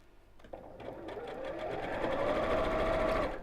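A sewing machine stitches fabric, starting with a few clicks and then building into a steady, close whir that grows slightly louder and stays continuous to the end.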